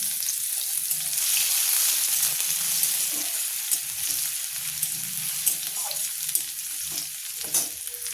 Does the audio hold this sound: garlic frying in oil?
yes